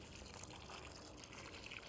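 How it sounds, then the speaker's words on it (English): Water poured into a concrete mix, a steady soft trickling and splashing that runs unbroken and fairly quiet throughout. "We'll go ahead and start adding water to it."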